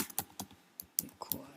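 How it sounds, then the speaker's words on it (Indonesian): Keystrokes clatter on a computer keyboard as a command is entered in a terminal, giving a short, uneven run of close, crisp clicks and taps over quiet room noise. "mengetikkan perintah compose require use Captcha"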